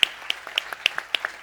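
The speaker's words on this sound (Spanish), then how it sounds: "Un aplauso para mis padres, por favor" A few people clap at a book presentation at the Patio de la Infanta, sharp and sparse hand claps in an uneven rhythm, close and clear over a quiet room.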